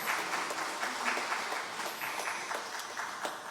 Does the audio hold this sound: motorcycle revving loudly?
no